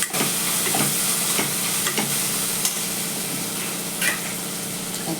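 Biryani gravy sautés in a pan with a steady close sizzle and bubbling, broken by scattered soft stirring scrapes and no talk.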